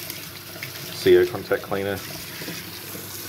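Tap water runs over a mining rig mainboard as it is rinsed, a faint steady trickle beneath someone speaking briefly.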